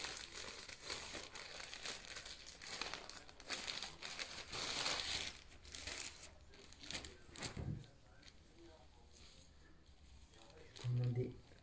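A package from an online order being opened: plastic wrapping crinkles and rustles in bursts with some tearing, close by and fairly faint, while a person talks over it.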